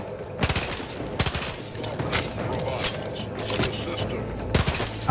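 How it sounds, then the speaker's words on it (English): Machine pistol fire in the video game The Outer Worlds 2, heard as several rapid bursts of shots with gaps between them, loud and close, over a steady game background. "So the machine pistol."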